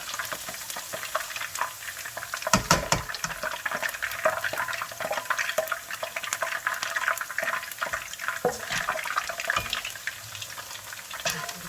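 Potato chips and other fried snacks sizzle steadily in hot oil in a home kitchen, a dense, bubbling crackle with occasional sharper pops, close and continuous throughout.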